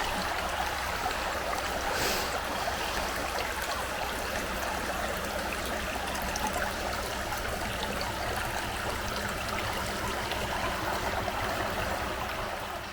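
Steady rushing river water flowing continuously, a broad close-up wash of sound with gurgles, loud and unbroken for the whole stretch.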